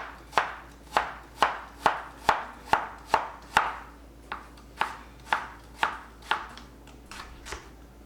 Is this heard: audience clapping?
no